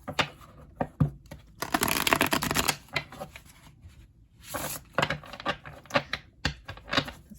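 Tarot cards being shuffled by hand, with bursts of quick riffling and crisp clicking slaps, a longer dense flurry early on and shorter flutters later, close and fairly quiet.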